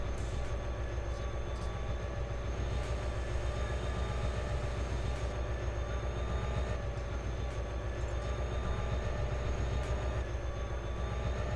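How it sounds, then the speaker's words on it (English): A train in a train simulator video game moves forward as a steady, loud rumbling drone with a faint high whine, unbroken for about eleven seconds. "Push the lever upward to move the train forward."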